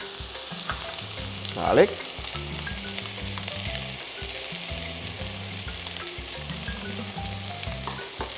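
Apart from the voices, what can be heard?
onions frying in sesame oil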